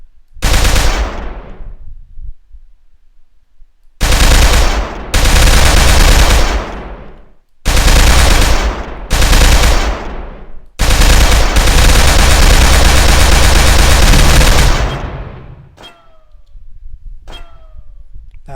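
A vehicle turret gun in a video game fires in sustained loud bursts, five or six separate rattling volleys of several seconds each with short silent gaps between them, then a couple of faint distant pops.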